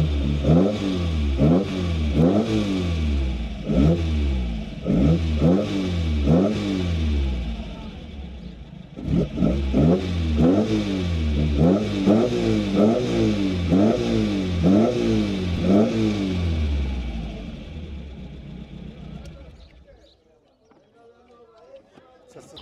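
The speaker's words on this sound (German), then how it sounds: "Das ist ein MGA Twin Cam. Es hat nur 7 in Österreich gegeben. Weber Doppelvergaser." An MGA Twin Cam engine fed by Weber twin carburettors revs in steady, rhythmic pulses at close range for about twenty seconds, with a short gap near the middle, then cuts off. A voice talks over the engine.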